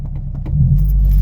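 A manual-transmission car in first gear rumbles low and close, with a few light metallic clicks at first before the engine note swells and holds steady and loud.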